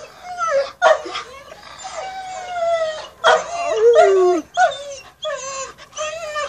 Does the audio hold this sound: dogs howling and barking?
yes